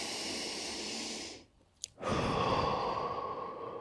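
Slow, deep breathing during a stretching workout, a steady airy exhale that fades into a brief pause with a small catch, then a fuller inhale that swells and holds close and clear.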